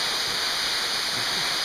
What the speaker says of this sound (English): That's a pretty sweet waterfall, man.